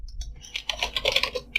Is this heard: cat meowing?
no